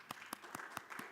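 A church congregation gives a short round of encouraging applause, with steady, evenly spaced claps sounding faint and a little distant.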